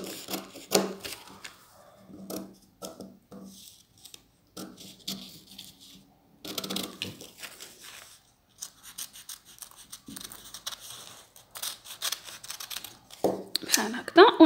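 Scissors cut fabric pieces for a girl's summer skirt in short, close snips and crisp clicks, separated by pauses. Someone talks intermittently between the cuts.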